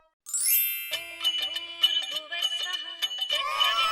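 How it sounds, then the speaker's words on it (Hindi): A bright electronic ringtone melody starts abruptly and plays a quick rhythmic series of chiming tones, fairly loud and close, with no voices. "ये आनंद दादा का फोन है।"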